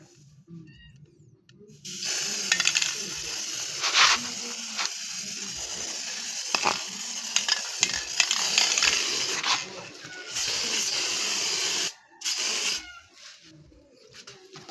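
Baolilai insecticide is sprayed from a can in repeated hissing bursts. The sprays come in an irregular rhythm, close and fairly loud, with brief pauses between them.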